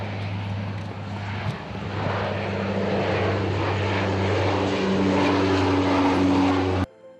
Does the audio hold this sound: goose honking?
no